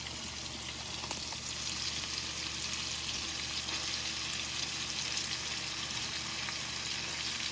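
Fresh fish fries in a pan with a constant, even sizzle, a dense crackling hiss heard up close with no voices.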